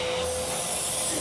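A Fujima Japan car vacuum cleaner sucks air with a loud, steady motor whine and hiss, heard up close with nothing else over it.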